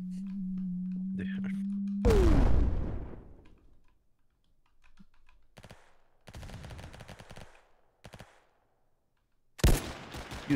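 AK rifle fire in a video game, heavy bursts of automatic shots separated by short pauses, loud and close, followed by a sharp final blast, with a brief tone beforehand.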